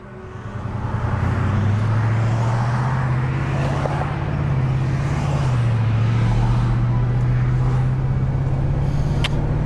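A Dodge Challenger SRT8 HEMI's engine drones steadily as it drives along the road at night, loud and close throughout with a low, rumbling tone.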